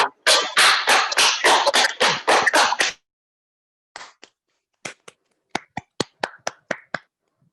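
Online participants clap after unmuting at the close of a conversation with an Urdu poet, a quick run of sharp, close claps for about three seconds, then sparse scattered single claps after a pause.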